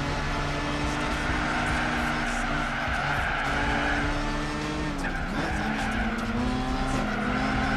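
A Mazda RX-8 in a Gran Turismo 4 one-make race: a steady, droning rotary engine note runs under continuous tire squeal and skidding, with the pitch shifting sharply midway as the car slides through a corner.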